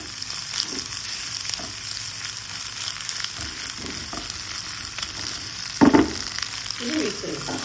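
Egg and okra fry in a pan with a steady, close hiss of oil, broken by a few spatters and pops near the end.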